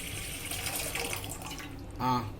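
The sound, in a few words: pouring water into a bowl for masala tea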